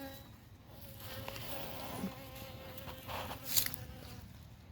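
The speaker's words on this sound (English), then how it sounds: "open this bee nuke up, and then the bees start flying out to go scout" Honey bees fly out of an opened bee nuc box, a continuous close buzzing drone of many insects with individual bees whizzing past the microphone.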